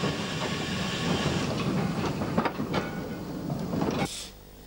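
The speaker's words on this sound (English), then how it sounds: "Heading a mixed train of empty hoppers and creaking four-wheel carriages, it sets off up the valley" A 1902 Borsig outside-cylinder narrow gauge steam tank engine sets off up a valley with a mixed train of empty hoppers and creaking four-wheel carriages, giving a steady rolling rumble and hiss with rhythmic beats, then dropping off abruptly near the end.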